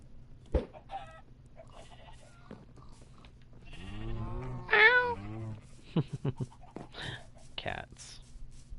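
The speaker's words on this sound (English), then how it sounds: "Cats. Their sounds are adorable, admittedly." Minecraft cat meowing in the video game, a few short high-pitched meows over a quiet background hum, with someone speaking at the same time.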